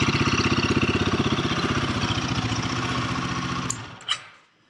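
A Royal Enfield Guerrilla 450 motorcycle with a stock exhaust idles close by in a steady, even thump, then the engine cuts off and a couple of short clicks follow in the quiet.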